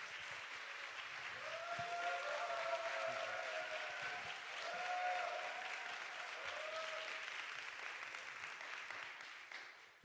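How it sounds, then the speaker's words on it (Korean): A church congregation applauds during a youth worship service, a sustained, even wash of clapping from a large room that holds for about ten seconds, with faint musical tones and a murmur underneath. "하나님께 감사와 영광의 박수 올려드리면 좋겠습니다"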